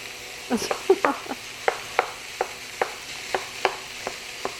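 Ground beef and onions browning in a skillet for a one-pan beefy noodle dish, with a low sizzle under a series of sharp, evenly spaced scrapes and taps as the meat is broken up and stirred.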